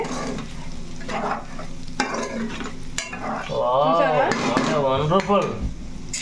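Chicken with dried coconut fries and is stirred in a pan for a Telugu-style chicken fry, giving a loud steady sizzle with scraping stirs while someone talks over it.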